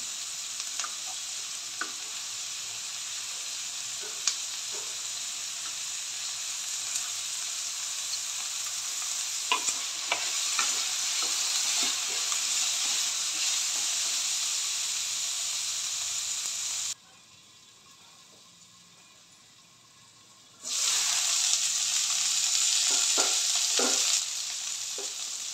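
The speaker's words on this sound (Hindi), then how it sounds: "प्याज को एक मिनट चलाने के बाद मैं इसमें फूल गोभी डाल दूंगी।" Onion and cauliflower fry in a pan for a mixed vegetable dish, giving a steady close sizzle and hiss broken by scraping stirs. The sizzle drops away briefly partway through, then returns at full strength, with no talking.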